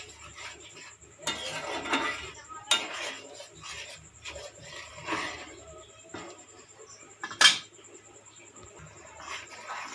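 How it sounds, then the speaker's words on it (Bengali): A spoon stirs banana flower dalna in a pan, giving repeated rasping scrapes against the metal with a sharp clink near the end, close and fairly quiet. "ভালো করে নাড়িয়ে নিচ্ছি।"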